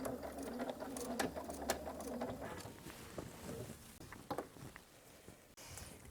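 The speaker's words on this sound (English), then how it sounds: "I'm going to stitch right back onto that fabric" A sewing machine stitches a straight line through fabric squares, with a whirring mechanical run broken by short pauses, close and fairly quiet.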